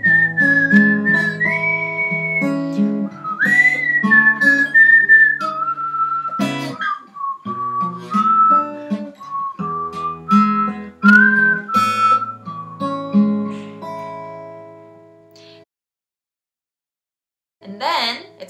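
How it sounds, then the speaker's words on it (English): A solo whistled melody of a song, clear and close, phrasing through a sequence of sustained and sliding notes with some soft background accompaniment, pausing briefly before a short final phrase. "And for my cover, I chose the whistle."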